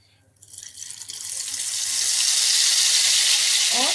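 Ghevar batter pours into very hot ghee over a full flame. After a short quiet start, a loud frying hiss builds quickly and holds steady, close and bubbling.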